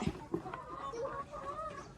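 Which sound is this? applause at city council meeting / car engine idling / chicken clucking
chicken clucking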